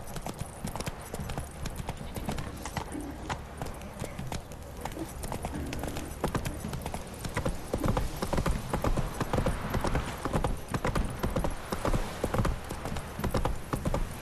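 Roach the horse gallops in The Witcher 3: Wild Hunt, a steady rapid clip-clop of hooves that stays close and loud throughout, with game ambience beneath and hoofbeats growing denser toward the end.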